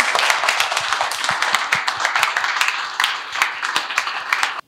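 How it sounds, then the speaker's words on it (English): Students in a spoken-English class give a round of applause, loud dense clapping from a small group nearby, steady for several seconds before stopping abruptly. "Please guys, can we have a round of applause for them?"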